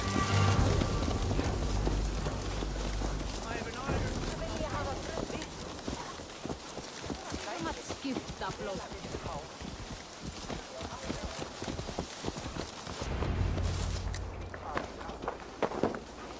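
A horse gallops in Assassin's Creed Valhalla, its rapid rhythmic hoofbeats running continuously for the whole stretch beneath a layer of other game sound.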